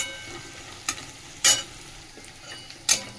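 Onions sizzle steadily in a frying pan while a utensil scrapes through them in a few sharp, close strokes, with no talking over the soft, continuous frying hiss.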